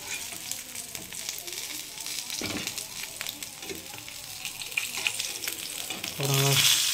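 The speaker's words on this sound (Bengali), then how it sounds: "যেখানে মাছ ভাজছি" Fish fries in a pan with a continuous bright sizzle and occasional spatters, growing louder and fuller near the end as more oil crackles close by.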